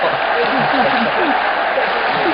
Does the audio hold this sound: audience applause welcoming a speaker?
yes